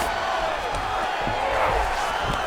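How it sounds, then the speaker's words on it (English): Arena crowd in the EA Sports UFC 5 video game roaring during a Jean Silva versus Mateusz Gamrot fight, a dense, loud continuous swell of cheering with a commentator's voice faintly underneath. "big pop from the crowd as they get back to their feet"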